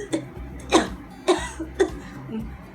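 A voice imitates a baby's fake cough: four short, separate cough bursts spaced about half a second apart, moderately loud, over a low steady background hum.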